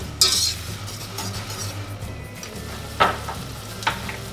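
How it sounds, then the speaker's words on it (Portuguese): Chopped onion and garlic sizzle in a frying pan with a constant close crackle, broken by three distinct clinks and scrapes of a utensil stirring against the pan. "Aí deixa a cebola e o alho dourarem, a cebola murchar bem."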